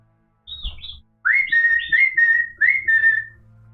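A pet parrot named Buddy whistles loud and close, with a quick opening chirp followed by a run of four or five bright, sliding whistle notes in a quiet indoor room.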